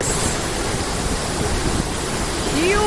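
A large outdoor water fountain gives off a steady, dense splash and rush of falling water, loud and continuous, with a faint tonal chirp near the end.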